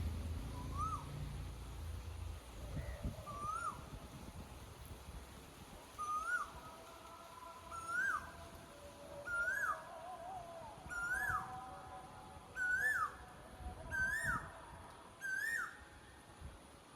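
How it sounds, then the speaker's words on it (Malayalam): An Asian koel repeats its rising, whistled call about nine times at steady intervals, growing louder and closer against a quiet background. "കുയിലിൻ്റെ കൂടെ കൂവുമ്പോൾ കുയിലിൻ്റെ ദേഷ്യം വന്ന് കിടന്ന് കൂവാണ്"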